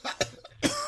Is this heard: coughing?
yes